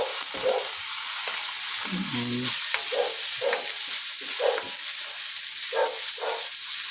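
Tomatoes sauté in a pan for ginisang sayote with chicken, a constant close sizzle broken by rhythmic stirring scrapes and a brief metallic clink partway through.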